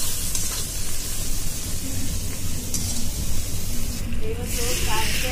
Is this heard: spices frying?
yes